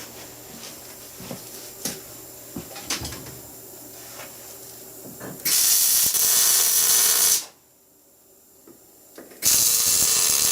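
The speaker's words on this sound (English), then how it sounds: "Okay, let's tack weld this one on." Tack welds on a 24-inch steel mini excavator bucket produce two loud, steady bursts of harsh welding hiss, each lasting a couple of seconds, after scattered clanks and workshop knocks.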